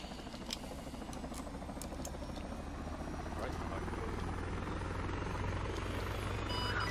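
A military helicopter spooling up and lifting off from pads during a training flight, a loud steady rotor and turbine roar with rapid blade chop that grows slightly stronger throughout, heard close from inside the aircraft.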